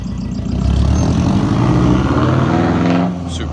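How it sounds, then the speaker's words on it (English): Loud, steady engine roar of a nearby Subaru with loud exhaust pipes and a deep, rumbling exhaust, holding for about three seconds before easing off. "Super loud car. It's a Subaru, you guessed it. With loud pipes."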